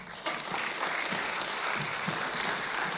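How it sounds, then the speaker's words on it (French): Loud, continuous applause from an audience at a formal gathering in Kivu, with scattered cheers rising above steady clapping throughout, no speech. "Des acclamations très fortes."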